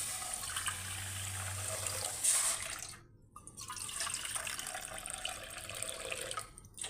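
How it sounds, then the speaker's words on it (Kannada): Two cups of water poured into a cooking pot on the stove give a continuous close splashing gush with a brief break midway, fairly loud, with no talk. "ಪಾತ್ರೆಗೆ 2 ಕಪ್ ನೀರು ಹಾಕ್ಕೊಳ್ಳುವ."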